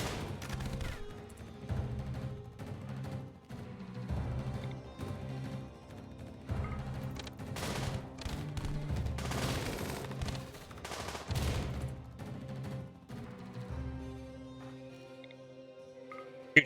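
Repeated bursts of video game gunfire, sharp shots and rattling volleys coming in uneven clusters over low background music, moderately quiet with no talk.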